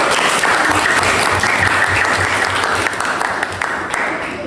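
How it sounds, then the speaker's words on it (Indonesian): A loud, dense burst of clapping from a group at a junior high school presentation fills the whole stretch, steady and close, tapering only slightly near the end. "Tepuk tangan untuk."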